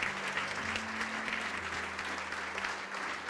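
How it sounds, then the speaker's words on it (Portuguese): A church congregation claps together in dense, continuous applause, with a sustained organ or keyboard tone lingering underneath. "E vamos aplaudir ao Senhor Jesus por cada vida que está chegando."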